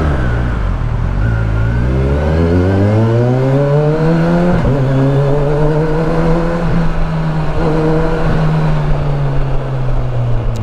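A Kawasaki Versys 1000 SE with an Akrapovic exhaust is revved up loud and close, the engine note climbing steadily over a few seconds, then holding a high, even drone with slight wavering.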